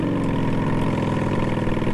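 A motorcycle idles in a game built on Unreal Engine 5, a steady, close, loud throbbing engine note with a regular pulsing rhythm and no voices.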